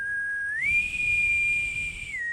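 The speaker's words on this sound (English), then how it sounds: "The boatswain whistle blew the next day" A boatswain's whistle on a ship's deck sounds one sustained shrill tone that steps up in pitch, holds steadily for over a second, then drops back down, clear and loud with no voices.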